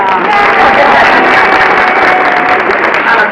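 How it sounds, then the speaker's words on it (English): A room of guests at a 90th birthday party and community award celebration applauds, a thick, loud, continuous roar of clapping with crowd voices mixed in. "a round of applause"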